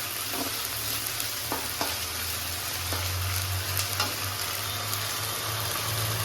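Spice masala frying in oil for a desi chicken curry with papaya sizzles steadily and close, with occasional stirring scrapes and a low hum beneath, and no talk.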